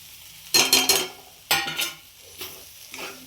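Semolina toasting in a pan while being stirred, three bursts of scraping and sizzling with short pauses between, nearby and moderately loud, with no voices.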